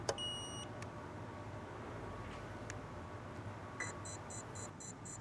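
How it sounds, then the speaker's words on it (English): Start-up beeps from a T1X2 tug, a few short high electronic beeps near the start and end over a constant low rumble of background noise. "listen when the tug starts up. It's going to do a beep, beep, beep, beep sound."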